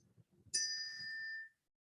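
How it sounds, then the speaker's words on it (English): A tapped tuning fork rings out a pure, steady note that starts abruptly and sustains for about a second before cutting off; faint murmuring is heard before the strike. "I can tap on this tuning fork and it will vibrate and we will hear a note"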